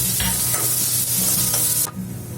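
Ginger and garlic sautéing in a hot pan, a loud close sizzle broken by several quick scraping stirs before the frying noise drops away near the end.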